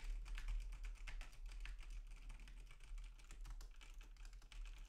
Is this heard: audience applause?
no